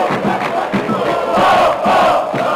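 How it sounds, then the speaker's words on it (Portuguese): In the PES 2010 football game, a Bahia versus Guaratinguetá match, a stadium crowd roars loudly right after a goal. It is a dense, continuous wall of cheering that swells in waves throughout. "O barulho da torcida é ensurdecedor. Explodiram em alegria após o gol."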